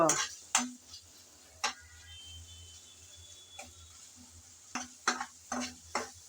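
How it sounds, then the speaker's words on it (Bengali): Tomatoes and sliced green chilies are stirred in a frying pan for a prawn head dish, making intermittent spoon scrapes and taps against the pan with quiet gaps and a faint sizzle between strokes, close and unvoiced. "টমেটো আর কাঁচামরিচ দিয়ে আবারও ভালো করে নেড়ে চেড়ে একটু কষিয়ে নেব"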